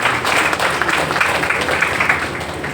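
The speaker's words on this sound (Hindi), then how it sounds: "इन सभी दानदाताओं के लिए एक बार जोरदार ताली बजा दीजिए।" Audience clapping for temple donors at a Hindi religious discourse, a steady dense applause that holds loud and even throughout without a break.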